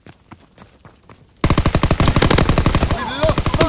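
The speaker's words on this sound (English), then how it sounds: "That's so OP, that combat shotgun." Rapid bursts of loud gunfire crackle from a combat shotgun in a multiplayer video game, a dense string of shots after quieter footsteps and faint pops.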